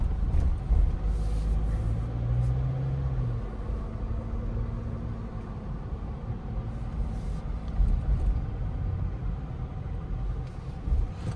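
A GWM Tank 300 SUV with a 2.4 turbo diesel engine driving over frequent speed bumps, giving a steady low cabin rumble with road noise and a faint engine drone throughout.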